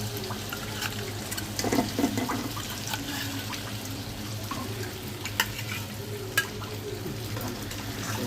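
Fish simmering in a curry in a pan, a continuous bubbling and low sizzle with soft watery churning and a few faint clicks, heard close and without talk.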